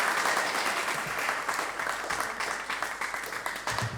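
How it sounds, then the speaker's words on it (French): Audience on a French youth talk show applauding a young winner, dense sustained clapping at fairly close range, loud and continuous throughout. "Mais applaudissez pour lui, c'est pour lui."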